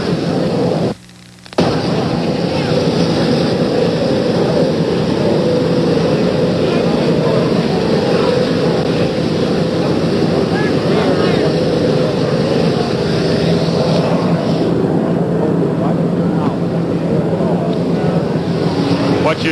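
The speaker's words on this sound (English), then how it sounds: "An Army helicopter has just landed. It's making a great deal of noise." A loud, continuous roar of a landing Army helicopter's engine and rotor wash fills the scene, steady and close, with a brief cutout near the start.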